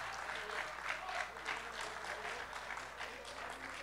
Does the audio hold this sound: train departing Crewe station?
no